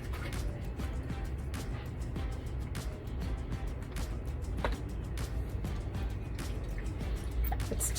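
Water trickles and drips into a small cup for acrylic paint pouring, a series of close, light splashes and drips over a low background hum, with no talk.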